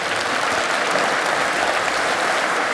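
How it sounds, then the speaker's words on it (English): A debate audience gives sustained, dense applause for the debaters at a US presidential election event, a steady wash of many hands clapping at full strength throughout. "Please, a big round of applause for our great debaters."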